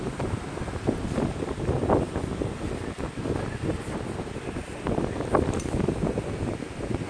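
Strong wind buffeting an outdoor microphone during a metal-detecting dig, a steady broadband rumble with gusty swells throughout and no talk.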